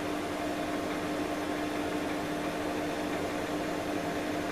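A Cooking Chef Gourmet kitchen machine runs at speed 3 while making chocolate ganache, giving a constant, even motor whir with no change in level throughout.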